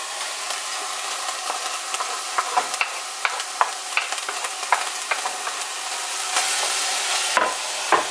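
Garlic sizzles in a hot pan with drained meat, a steady close frying hiss broken by scattered clicks and scrapes of stirring.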